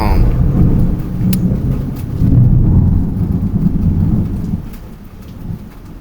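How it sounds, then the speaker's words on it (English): A thunderstorm with steady rain and deep rolling thunder, loud and close, with the rumble swelling and fading across the moment and no talk over it. "The lightning just struck."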